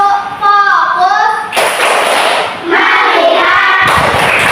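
Children in a classroom clap a rhythmic focus pattern together, bursts of loud group clapping alternating with chanting voices.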